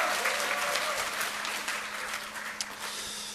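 Lecture audience applauding during a political talk in Korea, a dense, steady roar of many hands clapping that fades slightly toward the end, with a few scattered voices mixed in.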